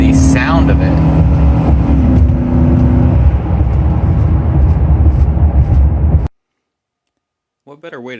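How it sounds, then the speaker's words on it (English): 2017 Honda Ridgeline Black Edition pickup fitted with a short ram cold air intake, its engine revving in a loud, steady sustained drone close by that cuts off abruptly, followed by silence and a brief voice. "the cold air intake or the short ram intake is on this truck, because it actually makes it sound like a truck"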